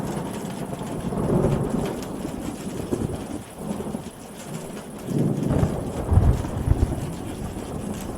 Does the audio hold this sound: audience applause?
no